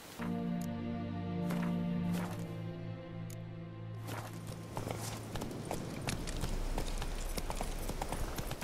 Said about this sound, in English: There's my horse, my loyal steed.